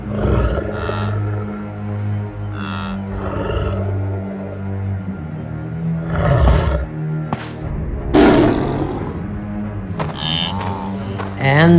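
Lion roaring in the wild, several deep, loud roars and growls repeating close by across the stretch, with bursts of rustling and scuffling between them.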